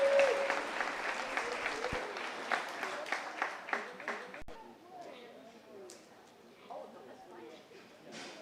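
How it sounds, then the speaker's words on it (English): Audience applause at a county 4-H swine carcass show, steady clapping from a crowd lasting several seconds, then fading into quieter room noise and scattered sounds. "Let's give all these first place exhibitors a nice round of applause."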